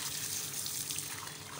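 Water pours steadily onto small potted plants being given their daily watering, a continuous close splashing flow with no talking.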